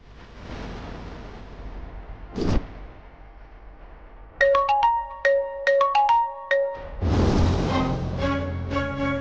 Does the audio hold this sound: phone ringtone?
yes